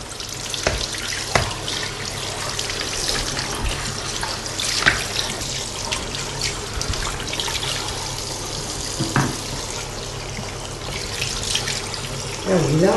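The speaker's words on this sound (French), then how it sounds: "je les ai refroidis à l'eau froide" Cold tap water runs steadily into a kitchen sink as freshly boiled zucchini are rinsed, a continuous splashing hiss with occasional clunks, and someone speaks quietly over it now and then.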